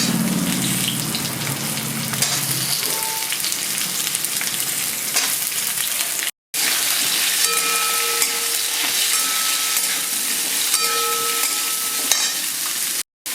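Onion frying with garlic in a pan for paneer masala curry, a loud, steady sizzle with stirring that runs on continuously, broken by a couple of brief cuts to silence.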